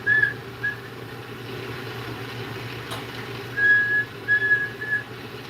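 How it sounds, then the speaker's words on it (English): A thin, high whistle from a torch flame through the choke of a glass pipe comes in short bursts over a steady roar of flame. There are a couple of brief tones at first and more near the end. "You hear that whistle, that's the choke's whistling."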